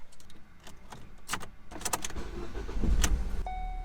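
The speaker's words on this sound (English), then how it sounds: "The engine fires right up." A Ford Focus engine turns over and catches on a newly programmed spare key, rumbling steadily after a few clicks and jingles, then settling into a low idle.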